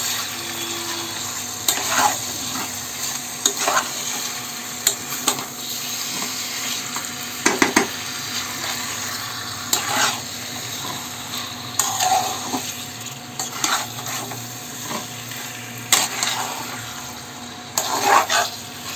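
Chicken sizzles steadily in a hot pan while a spatula stirs and scrapes the meat at intervals, a continuous close frying hiss with periodic utensil knocks and no voices.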